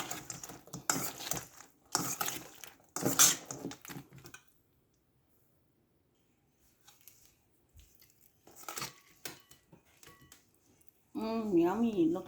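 Honey sesame chicken gets stirred through sauce in a pan, with sticky scraping and clacking bursts in short spells, a quiet gap in the middle, and a voice speaking briefly at the end.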